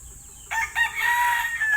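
A rooster crows loudly and close by, one drawn-out call rising after a short pause, with faint farmyard chicken sounds in the background.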